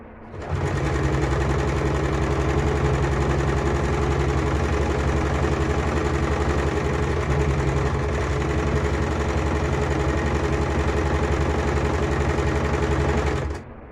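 A sewing machine runs steadily while stitching a lehenga skirt, a loud continuous whirring hum of the motor and needle that holds for nearly the whole stretch before stopping at the end, with no talking.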